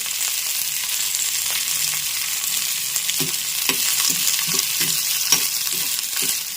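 Garlic and spices fry in hot oil for a tempering, giving a steady close sizzle with a run of soft stirring scrapes in the second half.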